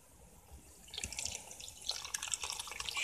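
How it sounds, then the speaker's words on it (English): Water runs faintly through an outdoor water line, a thin hiss that swells into a steadier splashing trickle with small drips, fairly quiet and distant. "I've got water going outside right now in one of the water lines."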